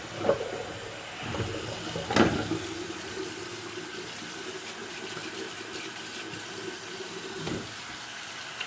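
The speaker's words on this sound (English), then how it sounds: "I'm filling up the sink with hot water." A tap runs steadily into a sink filling with hot water, a constant watery rush with a few small clinks and bumps along the way.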